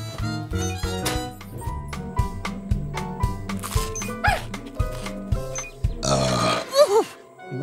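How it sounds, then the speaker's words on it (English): A long, loud, gurgling burp follows cheerful cartoon-style music and playful sound effects in a children's show, rising sharply near the end. "That was a big burp"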